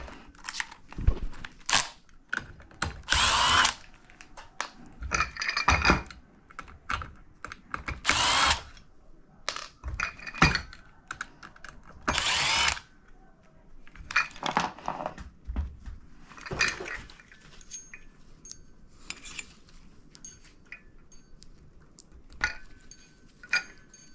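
A power drill backs screws out of a ceiling fan during installation, sounding in repeated short whirring bursts with quiet pauses between them over about twenty seconds, close and loud.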